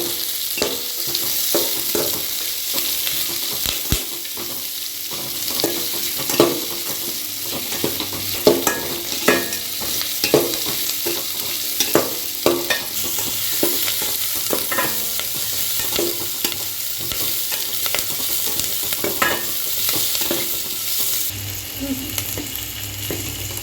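Ginger fries in oil in a pan for a South Indian stew, giving a steady close sizzle with frequent scraping and stirring clicks from a utensil, and no talk.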